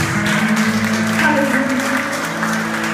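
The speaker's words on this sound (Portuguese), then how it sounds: "Vamos aplaudir ao Senhor. Aplauda a Jesus." A church congregation claps in praise, a broad wash of applause carrying on under sustained organ or keyboard tones, loud and steady throughout.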